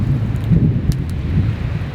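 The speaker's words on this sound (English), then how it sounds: "It's a lot colder today, and the wind has completely changed directions" Strong wind roars steadily and close over a freezing winter wilderness camp in Canada at -12°C, a dense low rumble with gusty buffeting against the microphone throughout, no voices.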